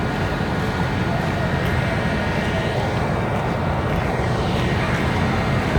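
An airplane passing overhead near a railway yard in Kalyan gives a steady, loud, broadband roar that holds without letup.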